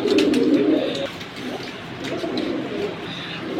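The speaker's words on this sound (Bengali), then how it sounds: "এই হলো আরেক জোড়া মিলিটারি কবুতর।" A pair of military pigeons gives low rolling coos up close, loudest at the start, then quieter repeated phrases with light background rustling.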